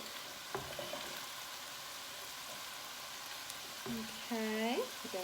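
Two medium onions, large diced, go into a pot for turkey fajita white chili and sizzle steadily, with a faint frying hiss and a brief stir, while a voice speaks briefly near the end.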